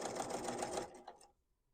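A sewing machine quilts foam and fabric for a tote bag, running fast and steady for just under a second, then slowing to a few stitches before stopping, close by with no talk.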